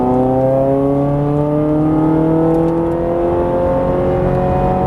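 A Ferrari 430 Scuderia engine revs up steadily on a racetrack, its pitch climbing in smooth harmonic sweeps, loud and close throughout with no voices.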